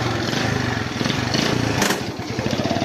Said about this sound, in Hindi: तो ट्रैक्टर है